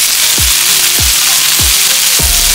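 Minced garlic sizzles in melted butter in a pan over medium-high heat, a loud steady frying hiss. Four soft low knocks sound at regular intervals, about half a second apart.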